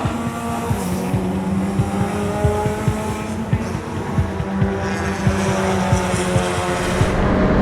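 A race car on a track at a drivers' challenge, fitted with a new three-way suspension, brakes hard with a steady engine drone and faint tire squeal running throughout, close and loud.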